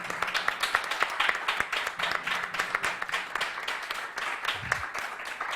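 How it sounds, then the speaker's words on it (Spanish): Audience applause at a public lecture honoring Roberto Bolaño, for María José and Federico, a steady patter of moderate, somewhat distant clapping. "un aplauso a María José y también a Federico por esta conversación sostenida hoy"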